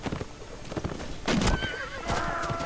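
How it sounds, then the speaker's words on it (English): In Mount & Blade, a horse neighs loudly in a sharp whinny, with the clatter and thuds of battlefield action around it and hoof clip-clop faintly behind. "That's another horse."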